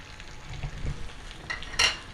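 Bitter gourd and onions fry in a pan with a low, steady sizzle, broken by a couple of soft scraping stirs and a sharper clink of a utensil near the end.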